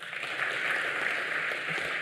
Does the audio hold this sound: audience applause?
yes